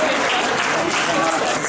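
A welcoming crowd at Queenstown Airport applauds Olympic bronze medalists returning from the Winter Olympics, a loud, dense, continuous clapping with a voice speaking over it.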